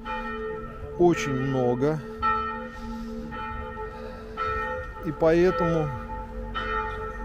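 Church bells ring steadily in Kranj, Slovenia at Christmastime, their sustained tolling heard at moderate distance while someone talks over them.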